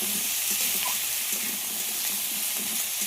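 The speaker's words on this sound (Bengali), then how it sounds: "আলুটা 5 মিনিট মতো খুব ভালো করে ভেজে নিয়েছি" Whole-cut potato chunks fry in a pan for a fish curry, with a continuous, even sizzle and hiss of hot oil at moderate loudness and no one speaking.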